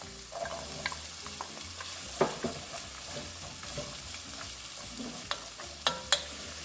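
Onions and carrots frying in olive oil in a pot for black bean soup, a soft continuous sizzle near at hand with scattered clicks and taps of stirring, no speech.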